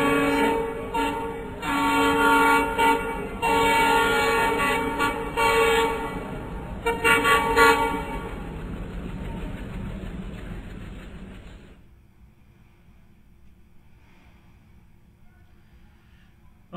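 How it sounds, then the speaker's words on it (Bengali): A train rolls past with a loud, sustained horn blast and rumbling wheels, the sound cutting off abruptly and leaving a faint quiet rumble afterward. "একটা ট্রেন কিন্তু চলে গেল"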